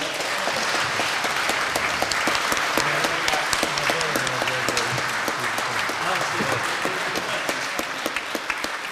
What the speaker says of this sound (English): So, a round of applause for everybody on the panel